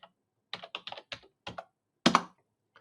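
Keys tapped on a computer keyboard while entering a disk password for an encrypted virtual machine, a quick run of separate clicks followed by a louder, heavier keystroke, close up with no talking.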